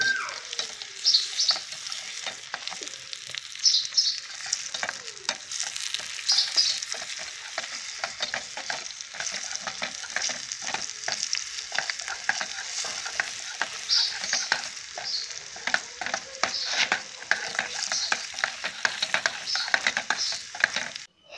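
Oil bubbles and crackles steadily as food cooks over an open fire, a close sizzle with dense irregular pops and spits that runs throughout without talk.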